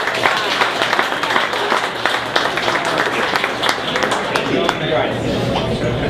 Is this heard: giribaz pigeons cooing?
no